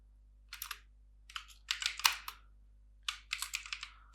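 Close, crisp bursts of typing on a computer keyboard while writing HTML code, with quick clusters of keystrokes separated by short pauses and no speech.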